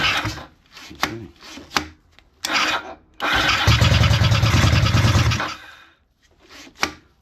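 Honda CB250RS motorcycle being cranked with the choke on: several short starter clicks and churns, then a sustained cranking burst of a couple of seconds that fails to catch, followed by more brief clicks.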